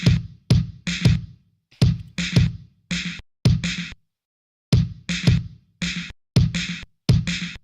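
Fast trap-style drum pattern at 165 BPM, punchy kicks and snare hits in tight rhythmic bursts with short gaps, loud and close, no voices over it.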